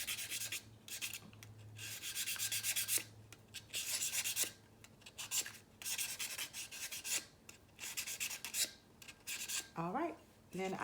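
A stainless steel cup is hand-sanded in repeated rasping strokes, close and fairly loud, with brief pauses between bursts and a short squeaky scrape near the end.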